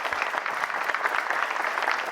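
A television studio audience claps in a dense, steady burst of applause. It sounds moderately close and plays alone without talk.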